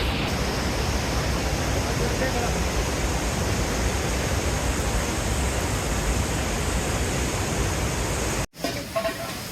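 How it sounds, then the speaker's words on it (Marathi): The swollen, fast-flowing Mandakini river on the Kedarnath route rushes with a loud, steady, broadband roar that continues unbroken, with a brief cut and some handling noise near the end. "इथेही मंदागिनी नदी बघू शकता नदीला खूप जोर आलेला आहे"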